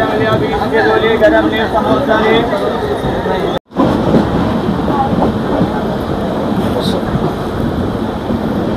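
The Janashtabdi Express runs on after leaving Panvel, a loud continuous rumble and rattle of the moving train heard from inside, with a brief cut partway through.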